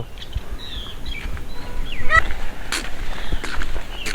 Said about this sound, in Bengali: ওয়াও সাদা ময়ূর এই একটা ময়ূর ময়ূরের খাঁচা অনেক বড়